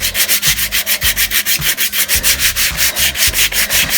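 Sandpaper scrubs rhythmically over a painted wooden craft block, close and loud, with about twenty quick back-and-forth rasping strokes in steady succession and no talking.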